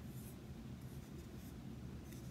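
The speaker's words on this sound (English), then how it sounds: "You're going to fold each one of them in half." Green paper cactus pieces being folded in half, a faint close rustle and soft rubbing of paper creases at a quiet table.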